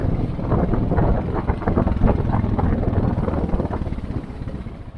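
A quad bike engine runs steadily close by during a ride along a rough track, with a loud, continuous, buzzing drone buffeted by wind noise throughout.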